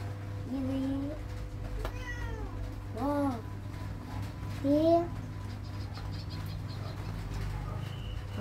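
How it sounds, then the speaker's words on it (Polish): A male cat gives several short meows spaced a second or two apart, moderately close, over a steady low background hum with faint ambient noise. "what is the name of this cat?"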